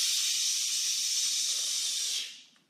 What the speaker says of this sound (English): I want you to shush as loud as you can